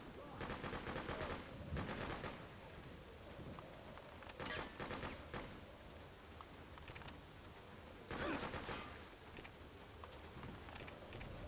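Rapid bursts of AK rifle fire in a video game battle at a naval base, several short volleys at moderate distance over a steady noisy background.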